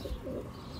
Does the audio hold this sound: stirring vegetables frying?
no